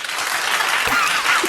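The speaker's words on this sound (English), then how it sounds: "Clap if you think she should suffer." A small group of people breaks into steady clapping, a brief, dense burst of applause heard close and fairly loud, with a faint voice or two sounding underneath.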